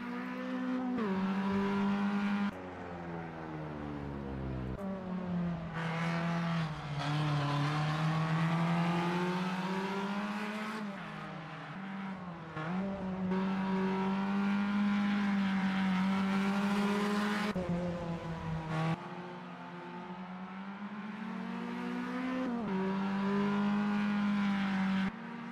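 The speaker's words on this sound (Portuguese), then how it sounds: "vocês podem aumentar o volume aí para curtir o som dos carros" Race cars lap during a Formula Inter free practice session at the Velo Città circuit, engines droning and revving loudly as they pass, with pitch rising and falling and brief lifts between passes, no talk.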